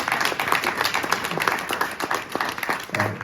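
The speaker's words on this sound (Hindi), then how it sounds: "इसके लिए भरपूर तालियां।" Applause and clapping from a gathered group at a staff prize day in Tavazo restaurant, Bahawalpur, honouring a restaurant worker; a dense, steady patter of many hands throughout, fairly close, with faint voices mixed in.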